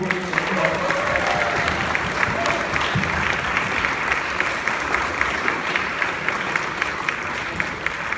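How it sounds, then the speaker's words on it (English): A church audience gives the Tijuana mission team a long, steady round of applause, many hands clapping evenly at moderate distance with a few brief voices early on. "give them a big round of applause"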